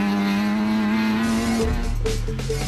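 Rally cars, the Castrol Toyota and the Atlas Copco Toyota, pull away from the start line at the Atlas Copco 400 rally, engines roaring loud and close with rising revs and a sudden gear change.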